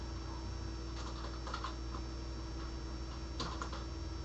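Someone types on a computer keyboard while programming. Scattered, faint key clicks come in small clusters over a steady low electrical hum, with no voices.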